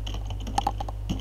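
A few light keystrokes on a computer keyboard, typing into a Firefox web browser's address bar on Ubuntu, with quick clicks close to the microphone over a steady low hum.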